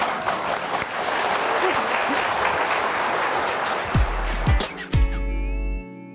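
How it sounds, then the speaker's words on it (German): Studio audience applauding a guest on a German health talk show, a dense, steady wash of clapping for about four seconds that tapers off as a few low thumps and a sustained tone take over near the end. "Sie haben sich jetzt einen Applaus verdient"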